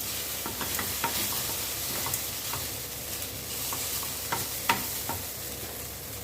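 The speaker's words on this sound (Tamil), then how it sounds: "நம்ம இதுக்கு ஏற்ற மாதிரி இந்த மாவுக்கு ஏற்ற மாதிரி கிளறிக்கணும்" Oat kozhukattai dough being stirred gently in a pan, a soft scraping and stirring with faint sizzling, steady and close, with no talking.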